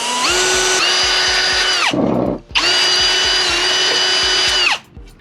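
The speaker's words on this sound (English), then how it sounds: "That way it just drills through the frame and the hose stops it." Power drill boring through the metal frame of a UTV during front bumper installation, a loud steady whine in two long bursts separated by a short pause, close up with no talking.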